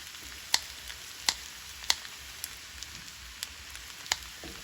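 Steak and onions fry in butter in a pan, giving a steady, close sizzle broken by sharp pops and spatters every second or so, with no voices.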